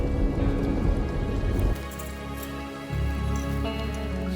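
Heavy rain pours steadily, a dense wide hiss with a low rumble of thunder beneath it that drops and swells, with no voices.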